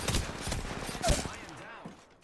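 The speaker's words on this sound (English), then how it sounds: "They're shooting at me." Gunfire in the video game Apex Legends: a dense, close fusillade of rapid shots and bursts that fades out toward the end, with a voice talking over it.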